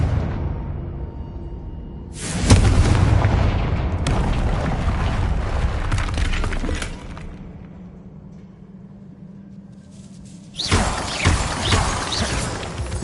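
Confringo blasting spell bursting through a barrier in Hogwarts Legacy: a loud booming explosion with crashing, shattering debris that rumbles for several seconds, eases off, then a second heavy blast erupts near the end.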